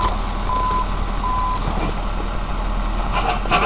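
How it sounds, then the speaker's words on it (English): Cat D11R bulldozer working on a mountain to shove a large rock, a constant low engine rumble under two short backup-alarm beeps near the start. "The bulldozer was moving in the middle of the mountain to move the large rock that stood in their way."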